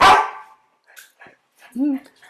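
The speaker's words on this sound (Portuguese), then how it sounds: "Ih, rapaz. Meu cachorrinho entrou aqui na sala. Agora vocês vão escutar." A Great Dane gives one loud, booming bark in a living room, then short whimpers and soft yips follow while the room falls quiet between them.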